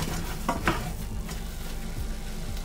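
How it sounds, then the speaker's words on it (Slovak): Potato and flour dough being stirred in a pot on the stove, with a few soft scraping knocks of the spoon over continuous sizzling and bubbling, no talking. "A teraz miešame takto 2 až 3 minútky, kým sa nám hmota nezačne oddeľovať od hrnca."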